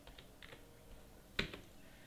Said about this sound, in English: So press F8, type invoice number